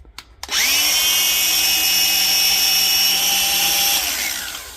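A repaired DeWalt angle grinder starts with a click, spins up quickly and runs at a steady high-pitched whine close by, with no talk, then begins winding down toward the end.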